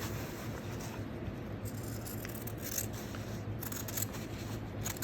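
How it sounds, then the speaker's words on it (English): Scissors snip and trim around the edges of printed fabric, a quiet, steady run of close cutting and rustling with no talk over it. "So then I just take and trim around the edges."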